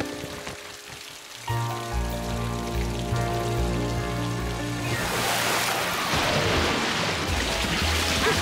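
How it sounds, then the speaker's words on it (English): Cartoon rain pours steadily around a camping trailer in Curious George, a dense broadband hiss that swells in after gentle musical tones and then fills the scene loudly, with soft music still running underneath. "They didn't know how long it had rained"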